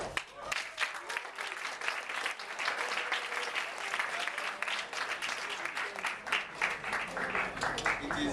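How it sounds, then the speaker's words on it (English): Audience applause fills a hall at a diplomacy event, a dense, sustained clapping from a large crowd that holds steady and close for several seconds with no break. "I think you should give a round of applause to yourself."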